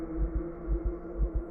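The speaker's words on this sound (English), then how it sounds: "heart pounding" A steady thumping heartbeat in a quiet, eerie setting, slow doubled low pulses repeating about five times over a faint hum, with no voices.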